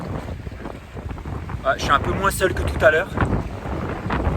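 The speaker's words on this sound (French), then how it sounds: "Désolé pour le vent, hein. Il y a beaucoup de vent." Strong wind at the seaside beach roars and buffets the microphone in a constant low rumble while someone talks over it.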